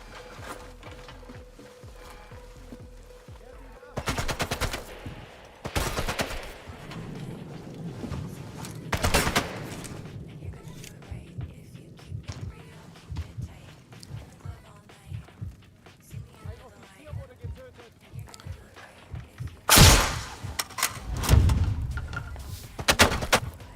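Sniper rifle shots in the video game Sniper Elite Resistance, a handful of loud, sharp cracks spaced several seconds apart over a low rumbling game backdrop with scattered softer noises.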